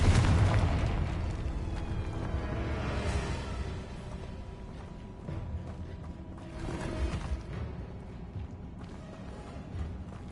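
A Confringo spell explosion from Hogwarts Legacy bursts loud and near at the start, then a rumbling blast and fiery crackle continue, with another swelling boom a few seconds later.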